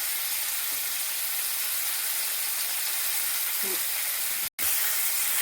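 Tamarind thokku pickle frying in a generous amount of oil, producing a loud, even, continuous sizzling hiss with a brief dropout near the end.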